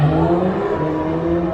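Mercedes-AMG A45 four-cylinder engine played back from a small device at a Mercedes showroom, a brief, raspy revving drone with steady harmonic tones, close and clear, no speech.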